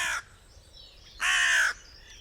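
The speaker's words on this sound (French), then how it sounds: "le cri du grand corbeau est bref, alors que celui de la corneille est plus grave," A crow gives two loud, harsh caws close by, the first clipped short and the second longer and drawn out, separated by a quiet pause.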